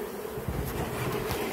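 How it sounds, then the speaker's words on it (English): Honey bees buzz steadily from a nest built inside a computer desk, a dense, continuous close-up hum with no voices over it. "These bees have built their nest inside this desk here."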